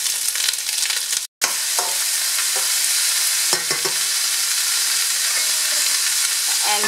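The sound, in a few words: sauteing julienned vegetables with green beans in a pan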